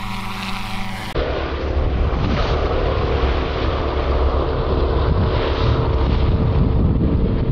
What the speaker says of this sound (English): The wind is way too rough out there.